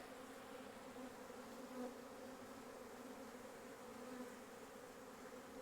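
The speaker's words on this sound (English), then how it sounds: "because there's a lot of bees here." A dense swarm of honey bees drones steadily in an opened hive being split, a continuous close buzzing with no pauses and no voices.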